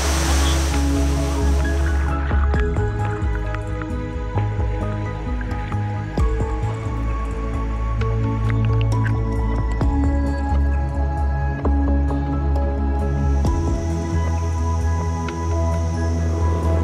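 A waterfall near the Mekong in Laos sends water splashing and rushing without a break, with dripping, sloshing detail layered over a dense, constant roar.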